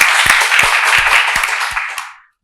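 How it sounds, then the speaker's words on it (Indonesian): A short burst of audience clapping at a community event with police and narcotics officials, close and loud, fading out quickly after about two seconds. "Kita beri tepuk tangan."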